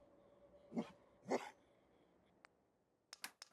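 A synth dog in the video game Fallout 4 gives two short, whining yelps close by, followed by a few faint clicks and a sharper burst near the end.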